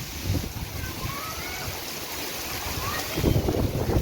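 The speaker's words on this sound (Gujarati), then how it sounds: "બહુ જ પવન ને ફાસ્ટ આમ વાવાઝોડા જેવો પવન" Strong storm-like gusty wind buffets the microphone in uneven rumbling surges, rising sharply near the end, with a faint watery wash behind it, during heavy rain in the Velanja area.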